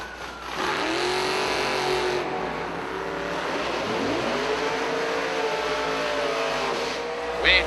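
A split-window Corvette drag race car at an IHRA Tournament of Champions event, its engine roaring loud and near, with rising and falling revs and shifting pitch sweeps throughout, no talking over it.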